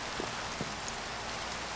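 Steady rain falls in the Minecraft video game, a brief, even hiss of drops with no other sounds.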